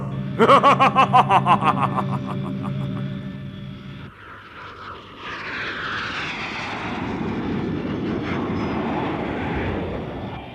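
An airplane engine drones steadily in a Thai tokusatsu hero series scene, heard after an opening burst of pulsing sound effects and continuing as a broad, mid-loud roar with no voices.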